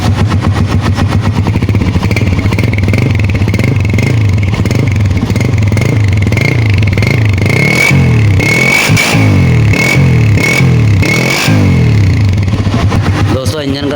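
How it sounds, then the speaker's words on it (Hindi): A 2020 Honda CG 125 motorcycle, a restored model, runs close by with its engine and silencer. The loud single-cylinder idle thumps steadily and rises in a few revving bursts, with talk over the engine. "इंजन का साउंड माशाल्लाह सिलेंसर का भी बहुत प्यारा है, इंजन का साउंड भी बहुत प्यारा है"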